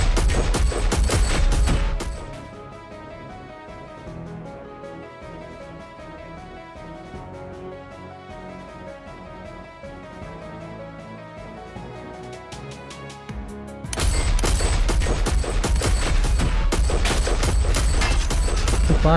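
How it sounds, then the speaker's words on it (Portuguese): Loud rapid bursts of gunfire from a car window open and close the stretch, with a quieter musical passage in between. "Da janela traseira do Cadillac, um homem dá uma rajada de tiros."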